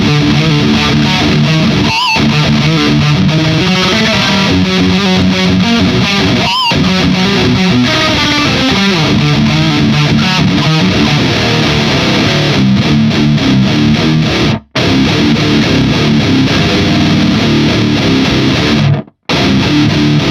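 Electric guitar played through a Hotone Ampero and ISP Stealth power amp into a Mesa 4x12 cabinet, loud heavily distorted chords sustained continuously with two brief stops, no talking.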